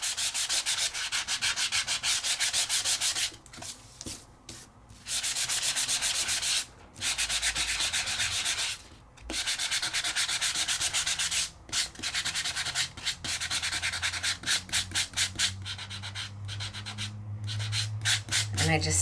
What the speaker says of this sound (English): And I just sand it to get my hello and my thanks.